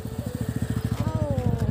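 Motorbike engine putting along during a ride to a market, a fast regular low thumping of exhaust pulses close by, with a voice speaking over it partway through.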